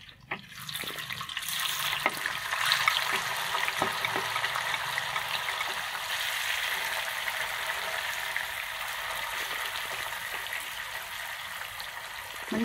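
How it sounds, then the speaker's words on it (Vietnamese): Cut tofu pieces fry in a pan until golden for a vegetarian tofu in tomato sauce dish, a steady bright sizzle with scattered small pops running throughout. "Thì mình cũng để vô chảo để mình chiên cho nó vàng lên."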